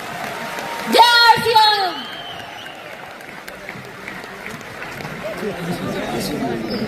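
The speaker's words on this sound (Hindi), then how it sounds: "ताली बजा दो फिर।" Seminar audience at a New Delhi business event claps briefly amid crowd chatter, with a shout rising over the applause near the start before the room settles into murmuring and talk.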